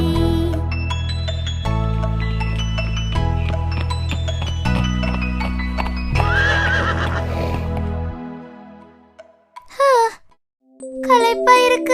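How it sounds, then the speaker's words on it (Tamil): A horse whinnies in a children's animal rhyme: sustained sung melody with music fills the first eight seconds, then two shrill, wavering neighs ring out near the end, the second longer. "கனைத்திடும் குதிரை, கம்பீரத்துடன் கனைத்திடும் குதிரை."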